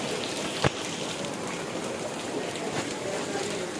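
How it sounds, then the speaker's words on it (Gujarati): Heavy rain falls steadily, a dense broadband hiss with no pauses, heard close and moderately loud, with one brief sharp knock near the start. "ફૂલ વરસાદ પડી રહ્યો છે"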